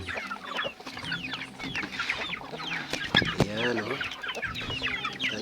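Chickens cluck and murmur busily up close while eating feed, with one louder squawk partway through and a constant scratchy pecking bustle underneath.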